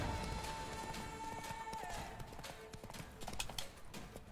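Hooves of the horse Roach clip-clop steadily in The Witcher 3 video game, a rhythmic trotting beat over game music and ambient sound.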